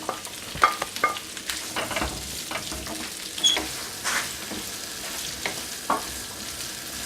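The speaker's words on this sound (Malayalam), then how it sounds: "ഇനി നമ്മൾ അരിഞ്ഞു വെച്ചിരിക്കുന്ന ക്യാപ്സിക്കം ഈ എണ്ണയിലേക്ക് തന്നെ ഇട്ട് നമുക്കൊന്ന് വാട്ടിയെടുക്കാം." Chopped capsicum and celery sautéing in hot oil in a pan, a steady soft sizzle with frequent close scraping stirs and clinks of a utensil, no voices.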